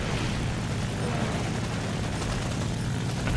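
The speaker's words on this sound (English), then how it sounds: "I know the sound of that cannon" Rapid cannon fire from a World War II era fighter plane in the aerial combat game War Thunder, a dense continuous roar of shots with heavy low rumble throughout, loud and sustained without pause.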